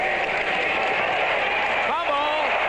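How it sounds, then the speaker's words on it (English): A large, noisy crowd roars steadily in a San Diego football stadium during a 1979 Chargers home game against Pittsburgh, a dense unbroken din with a voice talking over it. "Noisy San Diego crowd as the Chargers have the ball at the 33-yard line"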